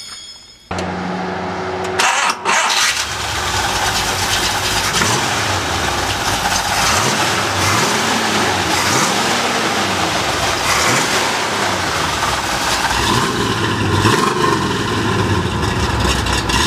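A 1965 Pontiac GTO engine cranks and catches, then settles into a loud, lumpy idle broken by several rising and falling revs, close and continuous for the rest of the clip.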